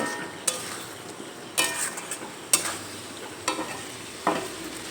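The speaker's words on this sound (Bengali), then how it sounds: "এবার একটু নেড়ে চেড়ে নেব। গুঁড়ো মশলাগুলো সব কিছুর সঙ্গে ভালোভাবে মিশিয়ে নেব।" A spoon stirs ground spices, including turmeric, through a fish roe mixture in a frying pan, with about six distinct scraping strokes over a soft, steady sizzle, close and fairly quiet.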